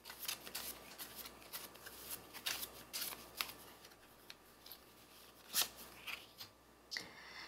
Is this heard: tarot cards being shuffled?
yes